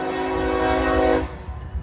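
A freight train passing a crossing on a windy day sounds a loud, sustained horn blast that cuts off abruptly, leaving the rumble of railcars rolling past.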